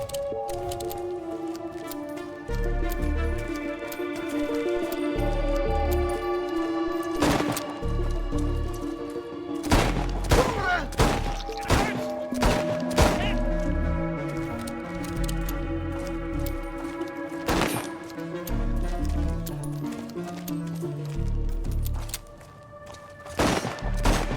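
Sharp gunshot bursts in the video game Chernobylite 2: Exclusion Zone, several loud cracks spread through a long stretch over a steady musical drone and tonal game sounds, with no talking.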